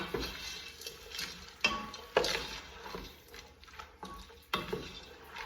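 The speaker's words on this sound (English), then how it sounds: "we're just gonna keep cooking this basically until the sweet potatoes are starting to get soft and your meat is cooked through" Sweet potatoes and meat cooking in a pan for homemade dog food, with quiet sizzling under several sharp scrapes and clinks of a utensil stirring against the pan, close and alone.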